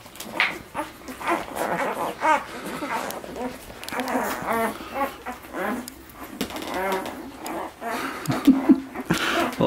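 Newborn Labrador puppies nursing from their mother, giving soft high whimpers, squeaks and yips that come and go throughout, close to the microphone, with someone talking gently over them.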